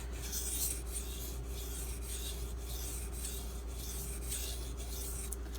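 Light finishing strokes of a Spyderco Smock knife drawn across a Sigma Select II sharpening stone, a soft rhythmic rasping repeated about a dozen times at a steady pace, close and quiet with a faint steady hum beneath.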